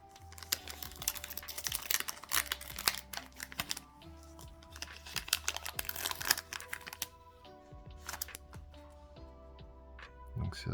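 A Yu-Gi-Oh booster pack's stubborn foil wrapper is crinkled and torn open in close, bursty crackling and rustling, with quiet pauses between handling bursts.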